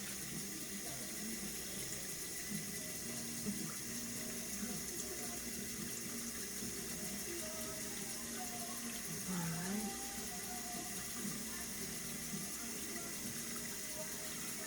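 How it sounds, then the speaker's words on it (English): Water runs steadily from a tap while a skincare product is rinsed off, a continuous even rush with no pauses and no speech over it. "You can see, rinsing it off. It rinses off easily."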